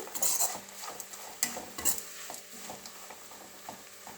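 Ingredients frying in coconut oil in a pan for coconut rice, with repeated stirring scrapes and clinks of a utensil over a light sizzle, close and intermittent.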